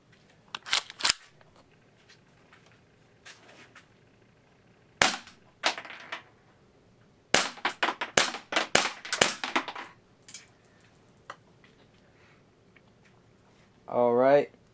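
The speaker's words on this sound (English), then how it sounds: "Let's go on semi-auto first." KWC Desert Eagle CO2 airsoft pistol fired in semi-auto, sharp snapping shots, a few spaced and then a quicker cluster, with quiet gaps between them and a brief voice near the end.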